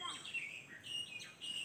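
Small birds chirp and tweet in high, thin repeated calls at a bird and orchid park in Biak Numfor, Papua, fairly faint with a soft background hum.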